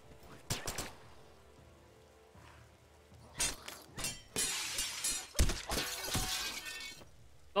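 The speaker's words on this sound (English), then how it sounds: "breaking windows." Windows shattering in the survival video game The Last Stand: Aftermath, several sharp glass breaks in quick succession with crunchy debris, loud and close, with no talking.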